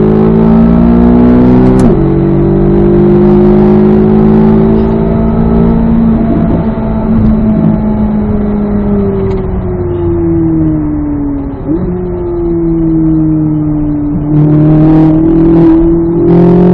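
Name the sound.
race car engine accelerating on track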